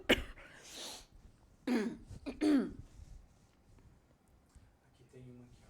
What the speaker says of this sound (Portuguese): Posso tossir?